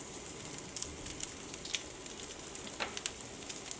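Chopped onion and ginger sizzling in hot olive oil, with dried chillies added, for an Indian egg dish: a steady, quiet frying hiss with small crackles and pops throughout, no talking.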